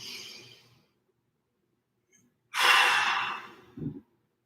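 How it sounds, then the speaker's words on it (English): Deep breaths taken during a strength and mobility workout, with a long exhale fading out, a pause, then a loud forceful inhale-exhale and a short huff at the end, close and alone. "2 more big breaths"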